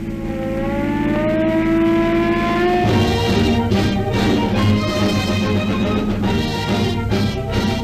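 Dense traffic streams past on a busy downtown street of a big Western city in an old radio police drama: a steady engine drone gives way to a loud, continuous wash of cars speeding by without pause.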